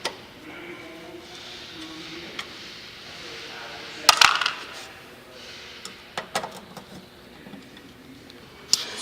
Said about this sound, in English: use our Phillips screwdriver and remove all of the Phillips head screws